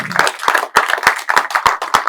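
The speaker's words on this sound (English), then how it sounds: "Huge round of applause, the last one for the evening" A few people in a panel-discussion audience clap at the close of the evening: sharp, close, individual hand claps in a fairly steady rhythm, about nine in two seconds.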